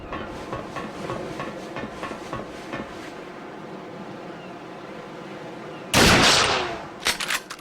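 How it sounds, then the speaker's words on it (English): Sniper rifle fire in the shooter game Perfect Dark Zero, with a sharp, loud shot ringing out and decaying, then a quicker pair of cracks, following quieter rhythmic game sounds. "The other snipers will also not hear your gunshot, so they can all be taken down without any trouble."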